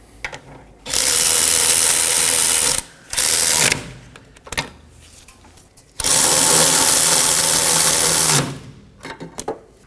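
A ratchet snugging down the two 19mm caliper bracket bolts on the rear brake of a 2015-2023 Nissan Maxima, close by, in two long, steady bursts of rapid clicking with short taps and pauses between.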